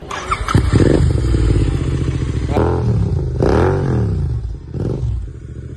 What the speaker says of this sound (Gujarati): ડ્રીમ બાઇક આ હે એટલે BMW એસ 1000 આર